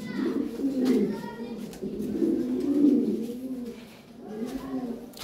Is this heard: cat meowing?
no